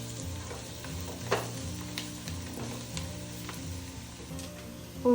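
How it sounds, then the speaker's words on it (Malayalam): Onions and garam masala frying in a pan give a steady, close sizzle, broken by occasional knocks and scrapes of a stirring spoon, with no talking. "ഇനി നമുക്ക് നല്ലോണം ഇളക്കി കൊടുക്കാം."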